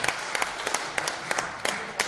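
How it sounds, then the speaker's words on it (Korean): Scattered, sparse applause from an audience at a Korean church leaders' anniversary forum, a handful of separate claps spread over about two seconds, fairly faint and with no one talking over it. "박수를 한번 하셔야 되겠습니다"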